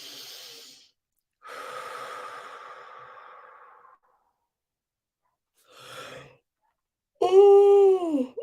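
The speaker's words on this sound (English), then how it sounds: "Take a nice deep breath." A deep breath during a morning meditation, with a long drawn inhale and a slow exhale, then a short huff and a sharp gasping sound at the end, all close and quiet with no talking.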